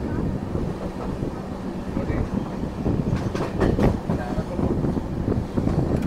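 A train on the Konkan Railway runs through fog-covered forest, heard from inside a carriage as a steady rolling rumble with wind noise and a few faint clicks.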